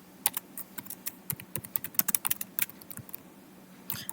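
Someone types on a computer keyboard nearby: quick, irregular key clicks in short bursts, fairly quiet and with no voices.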